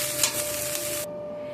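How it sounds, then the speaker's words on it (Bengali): Broccoli stirred and frying in a pan hisses and sizzles close up for about a second. The sizzle cuts off abruptly, leaving only a faint steady hum. "এখানে আমার ব্রকলিটা নাড়া হয়ে গিয়েছে, ভাজা ভাজা হয়ে গিয়েছে।"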